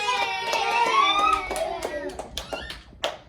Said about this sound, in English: Everyone clap for Caroline